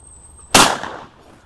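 A single sharp shotgun blast from a short, light English gun fired at clay targets outdoors, loud and close, with a brief decaying tail and no talk.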